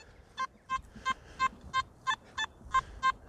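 Simplex metal detector beeps on a target with about nine short, evenly spaced tones over soft background noise, outdoors.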